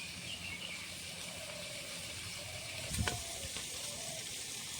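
Fish frying in a pan for a Bengali fish curry with pumpkin shoots gives off a steady, soft sizzle, with a brief louder crackle near the end and no talking.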